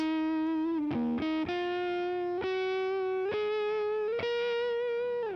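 A distorted PRS Private Stock Singlecut electric guitar sustains single notes, with a few quick note changes near the start and then long held notes rich in overtones.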